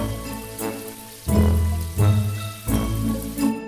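Steady rain falling on a surface, a dense even patter that swells and eases in waves, with a low hum beneath and no voices.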